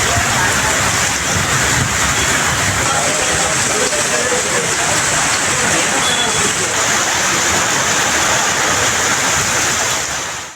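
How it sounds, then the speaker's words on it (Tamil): Heavy rain with wind falls at night in Aravakurichi, Karur district, a loud, dense, steady hiss that never lets up, with no voices. "இரவு திடீரென கனமழை பெய்தது."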